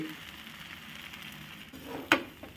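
Oil sizzles in a pan as an egg is added and fries, a steady close crackle with one sharp clink of utensil against pan near the end and no talking.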